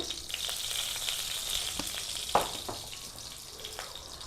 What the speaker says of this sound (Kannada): ಸಾಸಿವೆ ಸಿಡಿಬೇಕು